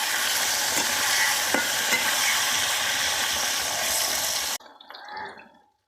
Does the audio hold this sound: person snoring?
no